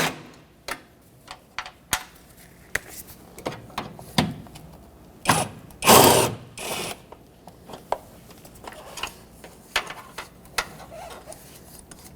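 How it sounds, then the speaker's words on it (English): A ratchet working a 10mm bolt loose from the coolant reservoir bracket of a 2006-2010 Hyundai Sonata: sharp, close clicking bursts at irregular intervals, with one louder rasping spell partway through, and no talking. "let's remove this 10mm bolt and then the other 2"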